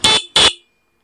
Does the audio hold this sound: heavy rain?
no